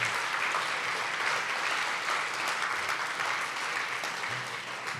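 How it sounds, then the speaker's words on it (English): A large audience applauds steadily for the full stretch at a business event on entrepreneurship, dense and continuous with no pauses, tapering only slightly near the end. "can we, a round of applause for you guys."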